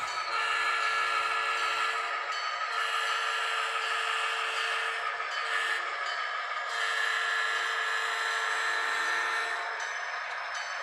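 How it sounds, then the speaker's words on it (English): A model train locomotive, the 3010 on the Seaboard Central layout, sounds a sustained horn that holds steady for about ten seconds, with small swells in level and no talking over it. "And here's the horn on the 3010."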